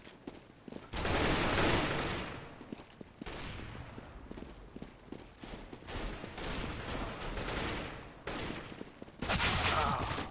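Bursts of rapid automatic gunfire from a Counter-Strike: Global Offensive competitive match, loud volleys separated by brief quieter gaps.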